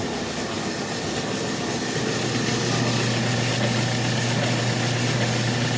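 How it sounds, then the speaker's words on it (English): A heavy-duty, shop-built coffee roaster runs mid-roast with a continuous loud mechanical drone and steady hum, a dense unchanging rumble close by. "everything in this roaster is very heavy duty. Quite a special roaster."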